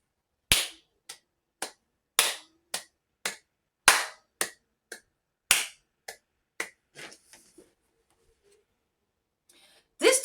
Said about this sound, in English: So let's clap that.